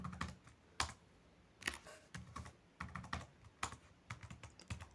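Fingers type savings figures into a spreadsheet on a computer keyboard, a steady run of close, crisp key clicks in irregular bursts with brief pauses, and no talking.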